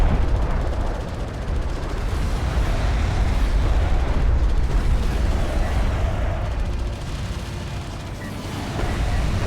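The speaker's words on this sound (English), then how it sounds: "Artillery's chipping in for good damage against the gear units here as well." In a strategy video game, an artillery barrage sets off a dense, continuous rumble of overlapping explosions and booms.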